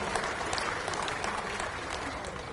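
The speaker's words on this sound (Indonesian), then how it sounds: "Kita berikan aplaus kepada Pak Agus" Audience applause for Pak Agus at a Golkar party congress: steady, dense clapping from a large crowd, sustained evenly and fairly loud throughout.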